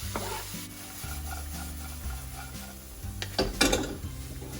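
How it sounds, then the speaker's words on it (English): Onion stir-frying in a pan for a garlic, ginger and goji soup, a steady sizzle with scraping stirs over a low tonal hum, with a louder burst of clatter near the end. "we'll just stir fry this until it turns into a nice, like, slightly golden color"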